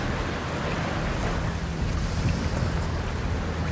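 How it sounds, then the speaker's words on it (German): Strong, gusting wind roars through the Hall of Ascension in the video game Tomb Raider, a loud, steady broadband rush with low rumble that holds without a break and has no speech over it. "Nee, das ist Wind. Das ist krasser Wind"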